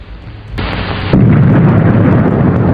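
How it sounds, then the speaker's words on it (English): A Soviet underground nuclear blast set off to extinguish a gas well fire: a sudden deep burst followed by a second heavier boom that rolls into a sustained loud, rumbling roar, with no voices. "The explosion is only seconds away."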